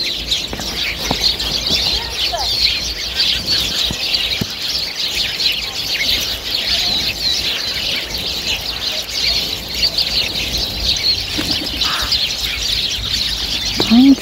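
Small tits chirping and squabbling among fir trees on a cold late-autumn day, a steady busy twittering with occasional sharper calls, moderately close and continuous throughout.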